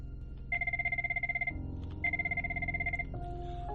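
A telephone rings in two long electronic bursts with a short gap between them, loud and close over a low background hum.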